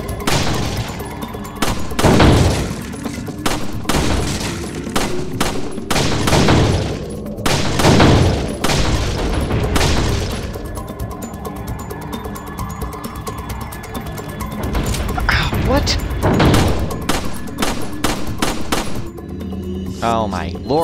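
Gunshots ring out in Resident Evil 4, loud repeated blasts with booming tails spaced a few seconds apart, set against the game's background sound.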